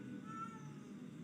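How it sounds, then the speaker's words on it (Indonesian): A cat gives a faint, drawn-out meow, heard softly in the background against a low hum. "Kaget ada kucing."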